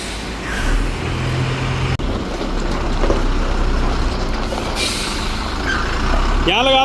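A Tata 3118 six-wheel truck idles and maneuvers with a low engine rumble, a sharp air-brake release and squeaky brakes, while people talk nearby.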